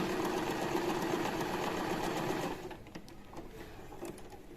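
An Usha electric sewing machine stitches cloth with a fast, steady mechanical whir that runs loud and close, then stops abruptly, leaving quieter handling clicks.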